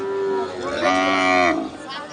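Cattle at a busy rural cattle market give a long, loud, close moo that swells and then fades, with faint crowd noise behind.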